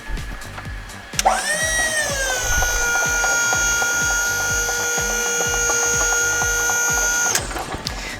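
A Snorkel UL40 aerial lift elevating from its base controls: a click, then a steady whining electric motor or hydraulic pump hum that holds for about six seconds before cutting off.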